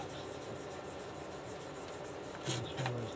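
Dirt being rubbed off a vintage glass telephone-telegraph insulator makes a faint, continuous scrubbing rasp, with a couple of louder squeaky strokes near the end and no talking.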